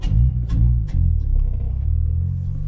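Revving Toyota Corolla Sportivo with a custom 3-inch intake, a low throaty growl that rises in a few sharp pulses then settles into a steady rumble, close and loud with no voices.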